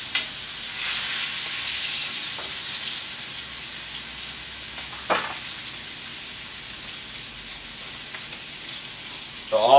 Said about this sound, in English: We're basting it in the butter. The butter's browning in the pan.